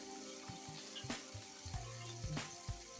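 Water runs and splashes while a bowl that held red chili sauce is rinsed out, a steady wash of flow broken by a few low clunks of the bowl.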